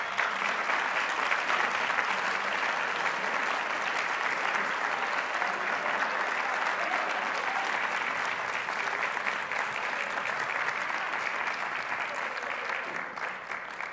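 Sustained audience applause at a health care awards ceremony, a dense steady wash of clapping from a large crowd that holds loud throughout and eases slightly at the end.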